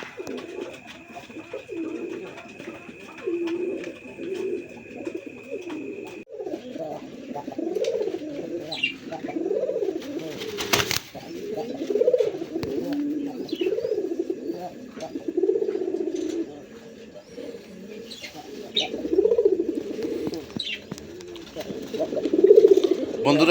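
Pigeons cooing steadily at a pigeon sale, with continuous overlapping low throaty coos close by, a brief sharp clatter midway, and faint voices in the background.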